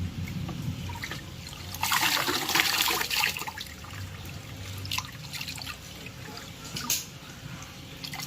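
Water splashing and trickling around a child in a bath, with a louder burst of sloshing partway through and softer drips and movement otherwise, close by and without speech.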